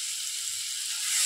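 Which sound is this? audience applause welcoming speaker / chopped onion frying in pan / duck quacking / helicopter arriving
chopped onion frying in pan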